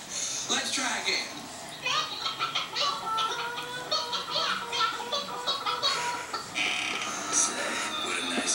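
Chickens cluck inside a coop in a busy mix of bird calls, with people and children talking over them throughout.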